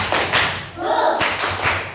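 A classroom of students claps out a rhythmic spirit chant, a few grouped bursts of hand claps and taps with brief pauses between, close and moderately loud.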